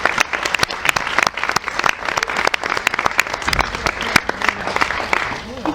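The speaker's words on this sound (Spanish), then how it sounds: "quiero dar un gran aplauso a Leonardo Anselmi" An audience applauds Leonardo Anselmi at an animal protection forum in Alicante, a lively, close burst of many hands clapping with sharp individual claps standing out, sustained evenly throughout with faint crowd murmur beneath.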